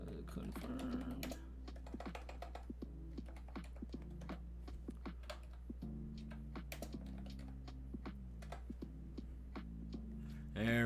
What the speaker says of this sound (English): I'm going to be typing them into random.org